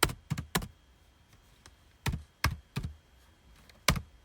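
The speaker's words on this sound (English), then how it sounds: "the keys are kind of clicky" Keys on an HP 15.6 inch laptop keyboard are typed in irregular bursts, soft close clicks and thunks, some in quick clusters of two or three with pauses between, under a quiet room hush.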